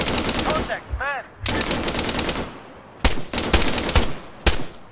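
Rapid gunfire in the military shooter game Arma 3: sharp, loud bursts of shots and scattered single cracks repeating through the clip over a constant hiss of battlefield noise.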